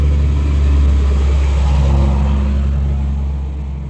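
A large dump truck rolls past outside on an overcast day, its engine a loud, steady low rumble that swells and then slowly fades as it moves on.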